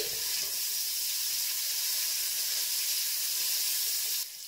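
Chopped mint leaves roast in a pan for an Indian turkey breast curry, giving a steady, dense sizzle with soft hiss and faint stirring throughout, close and even, easing slightly at the very end.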